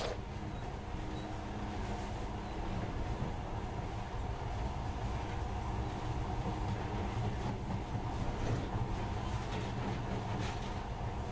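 A monorail train runs in the Metro Last Light Redux video game, giving a steady, continuous rumble and rattle of rail travel with a low hum, unbroken and close throughout.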